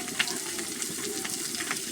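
Cumin and green chilies hit a hot pan and sizzle in a steady, close hiss that holds without pause through the short stretch.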